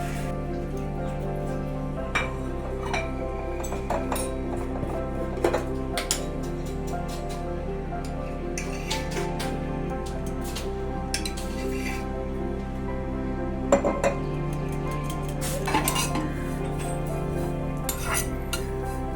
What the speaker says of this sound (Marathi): ही अशी एकदम ब्राऊन होईपर्यंत चांगली खरपूस परतून घ्यायची